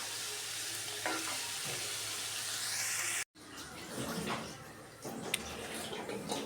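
Onion, ginger, garlic and green chilli fry in a hot pan for an egg roast, giving a steady, dense sizzle that drops out for a brief moment and then continues with occasional stirring scrapes.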